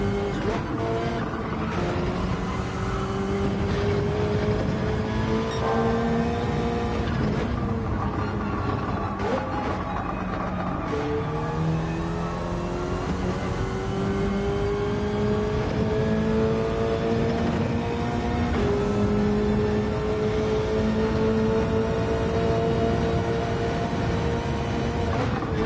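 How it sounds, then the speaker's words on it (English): Race car engine in Gran Turismo on the Dragon Trail Gardens circuit in wet weather, loud and continuous, its pitch rising and falling through repeated acceleration and gear changes with no break. "I have slowed down the car a bit."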